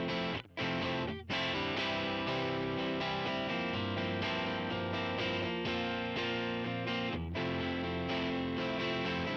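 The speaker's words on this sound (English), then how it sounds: "the initial guitar you first hear is the UAD Dream plugin. It's just a dry guitar running through that plugin, which is modeling a Fender Deluxe Reverb" A dry electric guitar played through a UAD Dream plugin modeling a Fender Deluxe Reverb amp rings out in sustained, chordal phrases with a thick, effected tone, loud and continuous apart from two brief gaps.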